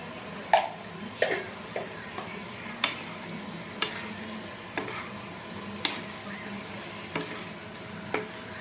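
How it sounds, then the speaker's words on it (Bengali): Chicken frying with spices for a Bihari-style masala while a spoon stirs it, soft sizzling under regular clanks of the spoon against the pan about once a second. "এখন মশলাগুলো মাংসের সাথে ভালোভাবে মিশিয়ে নেব।"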